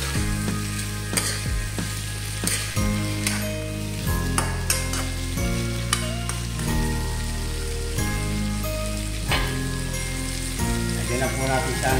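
Squid and onions sizzle and fry in a pan for a sautéed squid dish, a steady crackling hiss with occasional stirring clicks, while background music plays throughout.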